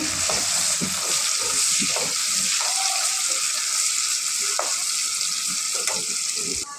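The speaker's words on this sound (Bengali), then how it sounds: "এবার এগুলো একটু ভালো করে ভেজে নেব পেঁয়াজটাকে।" Steady oil sizzle of onions frying in a pan, continuous and close, with occasional scrapes and clinks of a spatula stirring.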